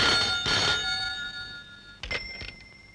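A telephone rings with two bursts of an electronic bell, a pause between them, close and clear in a quiet room.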